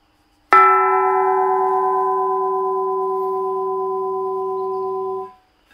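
One sharp hit sets a carbon dioxide cylinder bell with cuts ringing, a loud sustained metallic tone that holds for nearly five seconds before being abruptly damped.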